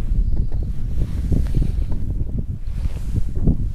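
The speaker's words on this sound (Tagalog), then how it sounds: "May hangin." Steady wind buffeting a microphone outdoors on a cold plateau among rolling hills of vegetable farms, a continuous low rumbling roar with gusty swells and faint watery rustle in the background.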